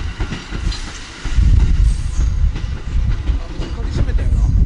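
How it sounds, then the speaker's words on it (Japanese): An electric train in Mie Prefecture, Japan, rumbles past close by, a loud steady low roar with rhythmic clatter of wheels, growing heavier after the first second. "電車"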